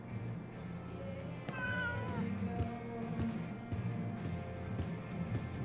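Cat in the Life is Strange True Colors game meowing, a clear mid-pitched meow rising over a steady game soundscape, followed by fainter repeated tonal calls and small clicks.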